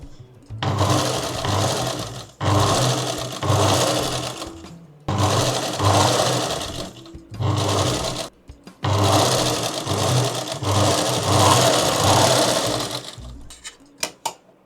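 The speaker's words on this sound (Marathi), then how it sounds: "याच्यावरती टिप मारून घ्यायची, डबल टिप टाकायची, दाब टिप टाकायची आपल्याला याच्यावरती" A sewing machine stitches a blouse in several loud, whirring runs of several seconds each, broken by short pauses, close up, with no voices over it.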